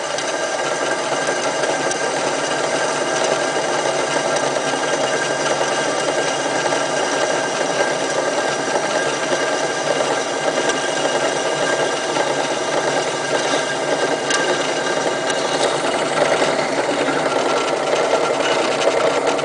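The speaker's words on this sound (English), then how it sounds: "using our 7/64 bit. We're going to go nice and easy going through this square stock." A drill with a 7/64 bit works slowly through square steel stock, giving a steady, loud, continuous motor whine and grinding buzz that holds for the whole stretch without pauses, no voices.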